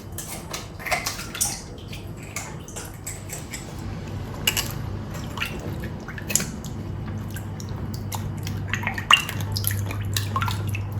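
Water dripping and sloshing in a basin while crucian carp are scaled underwater, with faint scraping clicks scattered over a steady low hum, close and fairly quiet throughout.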